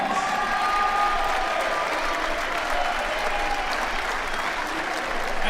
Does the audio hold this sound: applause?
yes